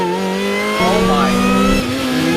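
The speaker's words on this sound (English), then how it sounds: "The whine from the supercharger!" Supercharged 1.8-liter Toyota engine in a tuned Lotus Exige on a race track, a loud, steady high whine over engine roar that steps up in pitch as the car accelerates.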